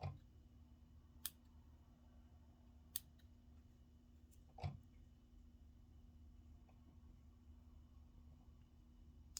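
Small fly-tying scissors snip loose dubbing fibers on a pheasant midge fly, giving a few faint, sharp clicks spaced apart over a quiet background.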